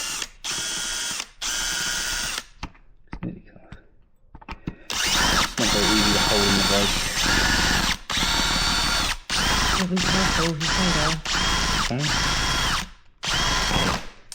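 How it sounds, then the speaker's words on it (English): A power drill drills out a rivet on an Aprilia Tuareg 660, running in repeated loud bursts, grinding and whining through metal with brief pauses between pushes, close up and with no talking. "I'm going to have to drill it out"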